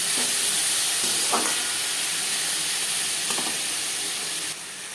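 Onion and tomato sizzle in a pan for homemade butter chicken, a steady, close hiss of frying that runs the whole time with a few faint clinks and a slight drop near the end.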